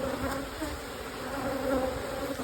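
Honeybees buzz continuously during a hive inspection, a dense, even drone close at hand with no break across the short stretch.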